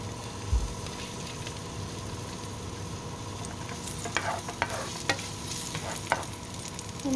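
Garlic frying in oil for sweet and sour red snapper, a steady sizzle with occasional crackles and stirring scrapes, close and alone with no talking.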